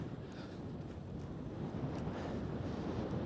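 Cold wind roars steadily across the microphone on a high mountain ski slope at about -5 degrees, a constant loud low rumble filling the whole clip with no voices.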